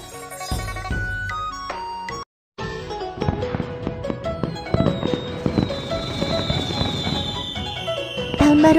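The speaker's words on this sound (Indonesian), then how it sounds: "Ada banyak sekali kembang api." Cartoon fireworks for Chinese New Year crackle and pop in rapid bursts over bright musical tones and a rising whistle, building louder toward the end.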